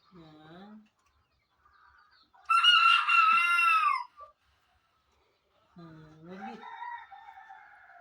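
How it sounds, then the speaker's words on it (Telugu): Chickens and roosters at a farm house in Wafra, Kuwait: a short clucking call, then a loud, close rooster crow lasting over a second, and after a pause another drawn-out cackling call, with quiet gaps between. "ఎన్ని కోళ్ళు ఉన్నాయి చూడండి ఫ్రెండ్స్."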